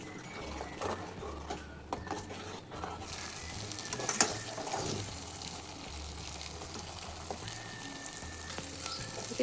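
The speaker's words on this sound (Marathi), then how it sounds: "हा मसाला आपण भाजून घ्यायचा" Masala purée roasts in oil in a pan for restaurant-style matar paneer, giving a steady close sizzle and frying hiss with occasional stirring scrapes and no voices.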